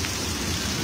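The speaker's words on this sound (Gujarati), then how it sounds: "વડોદરામાં ફરીથી વરસાદની શરૂઆત થઈ ચૂકી છે" Steady nighttime rain pours over the Sayajiganj area of Vadodara, a dense continuous hiss of drops hitting surfaces close by, with no voices and no pauses.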